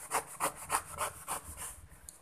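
A knife peels the thick rind of a red-flesh green-skin pomelo in a rhythmic series of about seven scraping strokes, close and crisp, with no talk.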